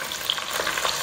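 Onion frying in a pan for a Penang-style fish curry, a dense continuous sizzle up close, steady and even throughout.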